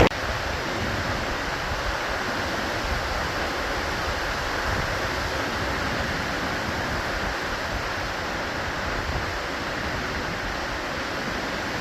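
Strong wind buffets a microphone outdoors, a constant, heavy roar with low rumbling that stays loud throughout and has no voices over it.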